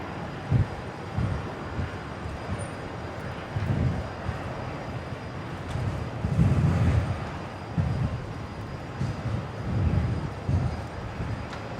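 A jet airliner roars at Brisbane International Airport, a steady broadband engine rumble with swelling low surges, heard at a moderate distance and without speech.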